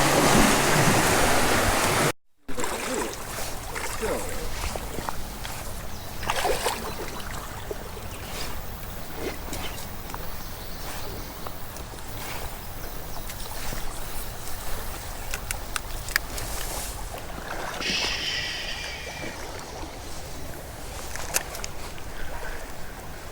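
A waterfall pours into a Wisconsin trout stream, giving a steady, broadband rush of falling water with no breaks. Near the start the sound drops out for an instant.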